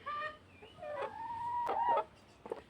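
Nearby chickens cluck and make a drawn-out, warbling call, a few separate vocalizations with short pauses in a quiet setting.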